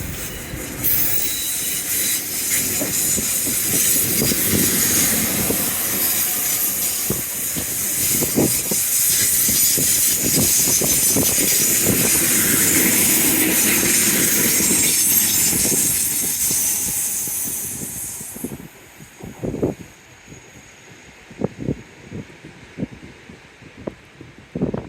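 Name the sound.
passing train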